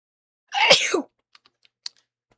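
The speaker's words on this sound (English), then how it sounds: "I'm gonna sneeze" A single sharp sneeze bursts out close by, followed by a few faint clicks and small noises in the quiet afterward.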